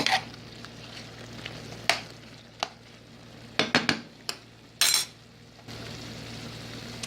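Ground turkey cooks in a frying pan with a soft, steady sizzle, punctuated by several sharp scraping clinks of a utensil against the pan, some in quick clusters, no speech.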